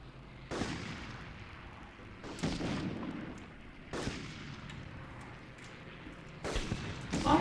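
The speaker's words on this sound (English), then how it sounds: "these guys want to kill me since they're already trying to shoot me" Bursts of gunfire in the Medal of Honor video game crack out about four times at uneven intervals, each a sharp blast trailing into echoing rumble, fairly loud against a low battle background.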